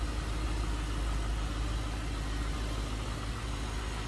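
A 2003 Ford Thunderbird's 3.9-liter V8 idles with a steady, low rumble, continuous, even and unbroken, close by with no other sounds.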